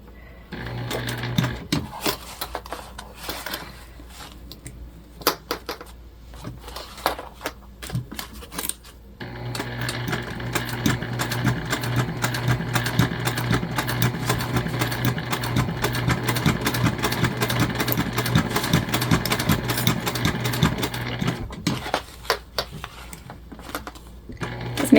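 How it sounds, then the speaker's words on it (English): A sewing machine stitches a seam on a gift bag, starting with scattered short bursts and handling noises, then a long continuous whirring run, close and clear. "Make sure you do a good back stitch here where you're going to be turning your pocket."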